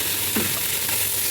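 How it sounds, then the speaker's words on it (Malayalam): Marinated chicken goes into frying masala and is stirred, a brief, even, loud sizzle with a soft scraping bump partway through, close up and without speech. "മാരിനേറ്റ് ചെയ്ത് വരുന്ന ചിക്കൻ ഇതിലേക്കിട്ട് യോജിപ്പിക്കുക."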